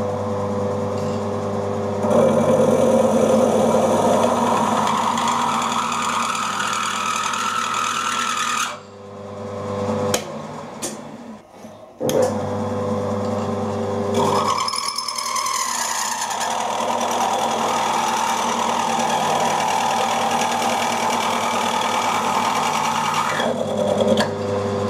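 A small milling machine cutting metal, with its axes jiggled by hand, gives a steady loud mechanical whir that stops briefly midway and then resumes, with no talking.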